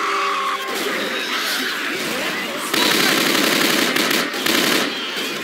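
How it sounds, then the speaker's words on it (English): Gunfire in a Left 4 Dead 2 campaign, rapid dense bursts of automatic shots with sharper booming blasts mixed in, loud and continuous for the whole clip. "Don't you dare shoot me with that grenade launcher."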